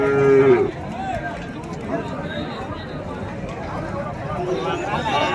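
Livestock at the Madrapalli cattle market, with a loud low moo at the start and then a steady crowd murmur, shuffling and people talking throughout.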